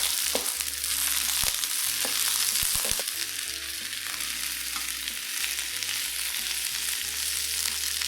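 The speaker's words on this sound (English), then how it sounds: "Once you see that the oil is smoking, add in the sacrificial vegetables. Cook these vegetables till they all turn brown." Vegetables fry hard in smoking-hot oil in a carbon steel wok on an induction cooker, a loud, steady sizzle with scattered pops and scraping stir strokes, with no voices.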